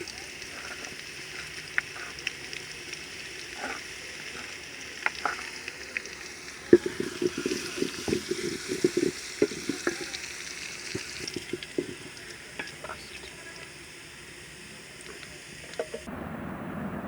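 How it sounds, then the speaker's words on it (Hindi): Garlic sizzles and fries in a pan for black pepper soup, a steady close hiss with scattered crackles and brief scraping stirs, the frying growing busier midway before settling back to an even sizzle. "अब लहसुन डालेंगे"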